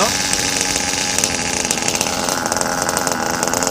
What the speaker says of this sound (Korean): 이게 엔진이 어, 너무 세걸 해가지고 이게 약간 RPM이 높아야지만 안 꺼질 거예요